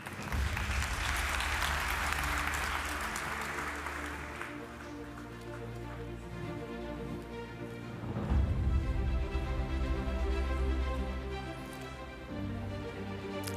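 An audience at an energy localization conference applauds panelists; the dense clapping is loud at first and fades out after a few seconds, then scattered claps and low room noise follow, with a short swell of clapping partway through.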